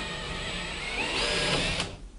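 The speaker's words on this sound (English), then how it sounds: "We're drilling the same size holes as we did for the corners of the wall mount." Power drill boring holes into a wall to fit a projector mount for a Hitachi ultimate short throw projector, one steady whine lasting about two seconds, close and fairly loud, then cutting off.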